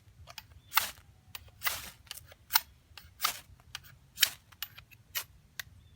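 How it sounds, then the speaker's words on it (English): Spine of an Old Hickory butcher knife scraping a ferro rod: about seven quick, bright rasping strikes at an irregular pace, close and crisp against a quiet background. "as you can see, it does pretty well with striking a ferro rod"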